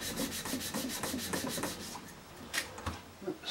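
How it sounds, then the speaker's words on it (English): Steady back-and-forth rubbing of a sanding block on cane, rhythmic strokes in quick succession, close and moderately loud, a few sharper scrapes near the end. "That's working on the sanding block."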